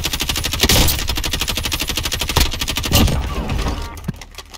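Sustained automatic weapon fire in the video game Call of Duty Modern Warfare, a loud continuous rattling burst of rapid shots that keeps going for several seconds before thinning out at the end.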